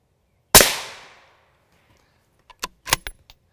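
A single sharp, loud rifle report as a round strikes a silicon carbide ceramic armor plate, ringing out and decaying over about half a second, followed after a pause by a few faint clinks and knocks.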